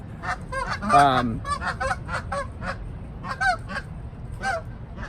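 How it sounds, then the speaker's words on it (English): A couple of geese honk repeatedly at close range, loud nasal calls in quick irregular bursts over outdoor background noise. "I got a couple geese right here that are probably just wanting to go in those bushes"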